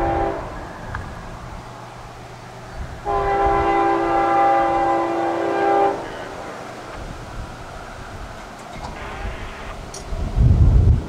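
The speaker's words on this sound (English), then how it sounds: "He's gonna pass this heavier, slower freight train." CSX intermodal freight train passing on the track with steady loud rumble, a sustained horn-like tonal blast in the middle, and a low rush swelling again at the end.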